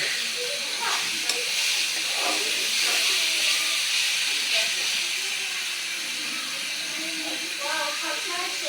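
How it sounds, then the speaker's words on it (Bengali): Beans, eggplant and potato sautéing in a spice paste give a steady, close hiss and sizzle, with light stirring scrapes throughout. "তা শিম, বেগুন, আলুটাও কষাবো সুন্দর করে।"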